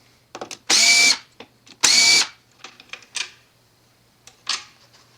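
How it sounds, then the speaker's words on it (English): Power screwdriver backing out screws from a mechanical water softener control valve: two loud, close whirring bursts of about half a second each, with clicks and small handling knocks around them. "Next, you'll remove these two screws."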